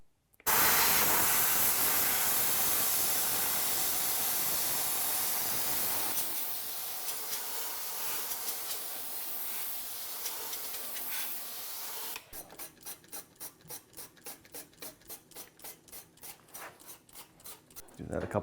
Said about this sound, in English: now I'm just going to take the steamer without the screwdriver in there and just steam this whole thing